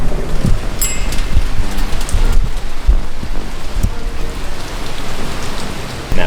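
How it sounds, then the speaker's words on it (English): Heavy rain pours down steadily outside in Tampa, Florida, a dense continuous hiss of drops hitting surfaces, loud and close, with a few sharper splashes. "Man, it's coming down out there."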